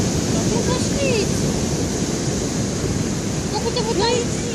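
Surf rolls and wind gusts across a stormy sea beach at Bagration beach in Lazarevskoye, a dense steady roar with faint distant voices in the background.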